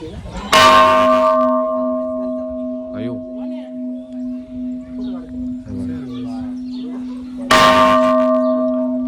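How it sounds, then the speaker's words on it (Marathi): A large temple bell rings out with a loud, clear strike, its deep tone humming on while people talk nearby, then another strike rings again near the end. "इथून घंटा बघा केवढा मोठा आहे"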